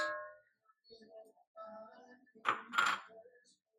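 Keto peanut-butter pie filling is scooped out of a bowl with quiet spoon scrapes and a few clinks against the bowl's side. A brief voice is heard at the start.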